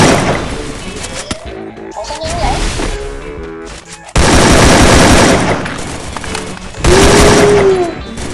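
Gunfire in the mobile battle royale game Free Fire: loud, close bursts of rapid automatic shots in two main volleys with brief pauses between them, plus scattered single shots and impact sounds.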